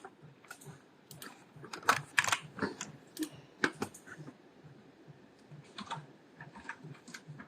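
A folder name is typed on a computer keyboard: a close, irregular burst of key clicks with a few louder strokes, continuing steadily without any talking.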